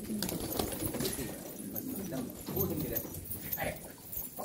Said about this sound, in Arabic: وأنا مستحيل أطعم الحمام كله